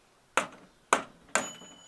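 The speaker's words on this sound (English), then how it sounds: "that's the bell that you hear ringing when that thing's ready" A ready bell on an older appliance being scrapped rings three times in quick succession, each strike a bright, close metallic ding that decays quickly, with no talk over it.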